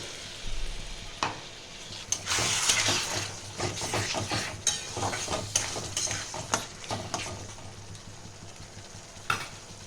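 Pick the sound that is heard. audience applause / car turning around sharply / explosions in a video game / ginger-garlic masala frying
ginger-garlic masala frying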